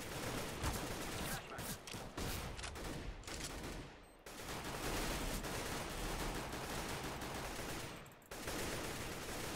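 Sustained bursts of rapid gunfire from the Counter-Strike: Global Offensive video game, dense and continuous with brief gaps, played at a low overall level.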